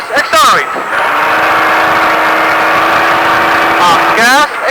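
A Baja truck engine at a speed park holds a loud, steady drone that climbs in pitch as it accelerates, with brief voice-like bursts near the start and the end.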